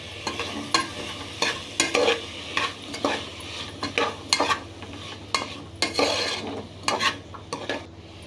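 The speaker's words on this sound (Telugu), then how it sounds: "బీన్స్ వాష్ చేసి పెట్టుకున్న బీన్స్ వేసుకొని బాగా ఫ్రై చేయాలండి" Washed green beans fry in a pan while being stirred, with repeated rhythmic scraping strokes over a constant low sizzle, close and fairly loud.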